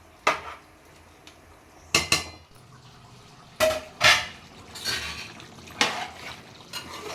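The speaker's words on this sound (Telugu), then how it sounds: "సరిపడుకొని ఒకసారి మూత వేసేసుకుందాం" A metal lid set onto a cooking pot, heard as several sharp, close clanks and clinks spaced a second or so apart over a quiet background.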